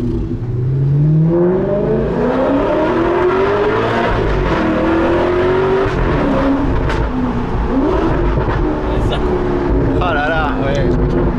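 An Alfa Romeo 8C Spider engine revs hard, its pitch sweeping upward through the gears with loud, rising tones and shifts, close and powerful, while people talk over it.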